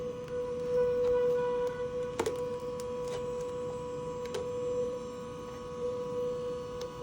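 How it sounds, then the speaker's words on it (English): A magnet set against a Snark clip-on tuner makes it hum with vibration, a steady electrical tone with harmonics running throughout, broken by a few sharp clicks, close and alone. "Let's go ahead and throw this magnet in there and get it really humming."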